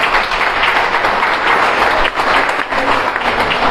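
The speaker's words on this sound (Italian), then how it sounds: "Un applauso di augurio" A crowd at a liceo artistico's digital fabrication lab inauguration in Mazara breaks into loud, dense applause that holds steadily for a few seconds, with a brief dip partway through.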